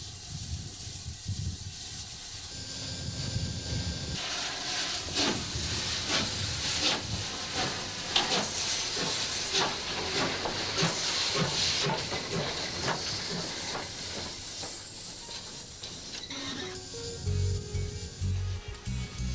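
Steady broadband hissing of steam from a steam locomotive on a turntable runs throughout, loud and continuous, with rumbling low machinery underneath and brief rises toward the end.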